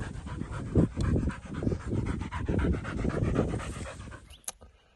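Pig-hunting dogs, worn out after a long hunt near a creek, pant hard and steadily at close range, with rapid rhythmic breaths that go on without pause and a brief sharp sound near the end.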